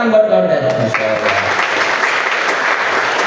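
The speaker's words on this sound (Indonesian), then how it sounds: "Tepuk tangan buat kawan tadi." A room of students claps steadily for a classmate during a Quran-recitation teaching session. A voice is heard at the start before the applause settles into an even, continuous patter.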